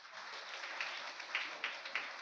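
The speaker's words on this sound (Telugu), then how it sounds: "గట్టిగా చప్పట్లు" A small crowd at a church parish anniversary celebration claps briefly at a distance, a soft patter of hands with a few sharper claps standing out.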